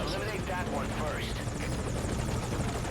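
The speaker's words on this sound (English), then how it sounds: "Have the chopper wait in the air." A helicopter in the game Metal Gear Solid V: Ground Zeroes thrums loudly and steadily with rotor chop throughout, while voices talk over it.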